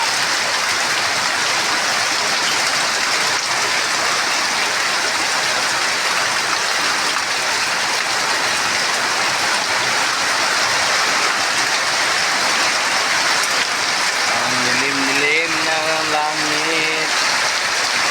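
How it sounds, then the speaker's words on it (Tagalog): Heavy rain pours in a dense, loud, unbroken hiss throughout, with a voice speaking briefly near the end. "lakas pa ng ulan."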